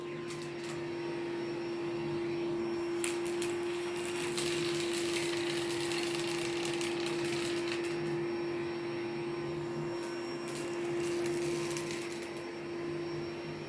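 A vacuum cleaner running in a living room, sucking up spilled beans and lentils, a loud steady motor whine with bursts of rattling as hard bits are pulled in, continuous and close.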